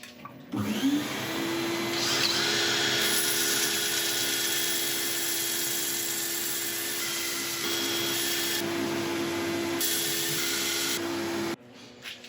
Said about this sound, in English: So I'm going to set up for sanding.